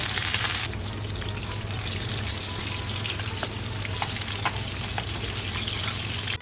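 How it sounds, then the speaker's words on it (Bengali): Pieces of rohu fish fry steadily in hot white oil in a pan, a dense, continuous sizzle with occasional crackles and pops that stays close and loud throughout, no voices. "এবারে চুলায় আঁচ দিয়ে পানে সাদা তেল গরম করে মাছগুলো একে একে ভেজে নেব।"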